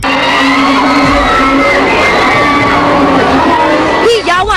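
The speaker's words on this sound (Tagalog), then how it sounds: "Hiyawan ang sumalubong sa cast ng My Valentine Girls sa kanilang red carpet premiere sa SM Mega Mall" Fans at a red carpet film premiere in a mall scream and whoop loudly and continuously, a dense wall of crowd cheering with sharp rising shrieks near the end.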